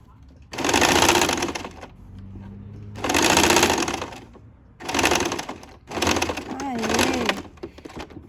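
Sewing machine stitching the seam of a dress, running in four loud bursts of rapid mechanical stitching separated by short pauses, with faint talk during the gaps.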